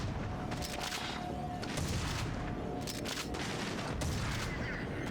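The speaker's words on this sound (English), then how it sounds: "Shotgun." Loud, booming shotgun blasts from GoldenEye: Rogue Agent, firing in quick succession amid dense, continuous combat noise in a flooded industrial facility.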